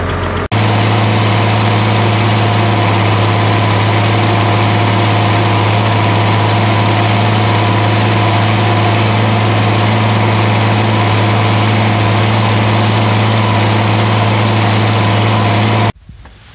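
A tractor engine driving a corn chopper runs loud and steady at idle-like speed, a constant low droning hum with harmonic tones, continuing nearly the whole time before cutting off.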